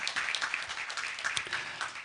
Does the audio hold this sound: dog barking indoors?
no